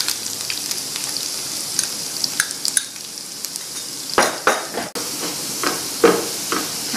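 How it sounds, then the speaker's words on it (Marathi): Garlic and ginger frying with cumin in a pan for raw mango curry: a steady soft sizzle runs throughout, with a few clinks of a spoon stirring against the pan around the middle and near the end. "जिरे तळलं गेलं की आपण लगेच त्यात लसूण घालू,"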